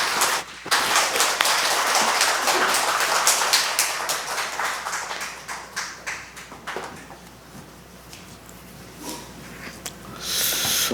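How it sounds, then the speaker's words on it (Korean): A church congregation claps to welcome a missionary coming forward at a worship service. The clapping starts abruptly, stays busy for several seconds, then thins out and fades toward the end. "선교사님 한번 나오실 때 큰 박수로 한번 맞이해 주시면 감사하겠습니다."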